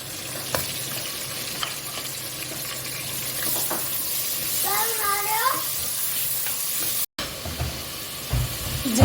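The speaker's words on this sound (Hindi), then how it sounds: "जिंजर गार्लिक पेस्ट ऐड करने के बाद हमने उसको थोड़ा सा जो है फ्राई किया" Mutton pieces frying with ginger garlic paste for dal gosht, a steady sizzle and hiss from the hot pan with a few stirring clatters, a brief dropout near the end, and a soft knock at the close.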